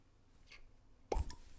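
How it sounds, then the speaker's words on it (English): A cork pops from a bottle of St. George whiskey while a Baller Malt Penicillin cocktail is being made: one sharp, close pop after a faint earlier squeak, in a quiet room. "wait for that cork pop"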